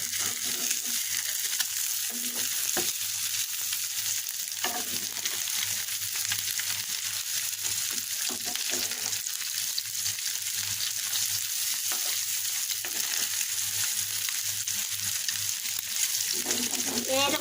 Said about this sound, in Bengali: এখন আমি ডিমগুলোকে উল্টিয়ে দেবো